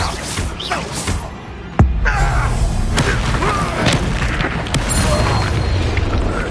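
Depulso spell impacts boom and crash in the Hogwarts Legacy video game, with a sharp hit near the start of a dense rumbling fight mix.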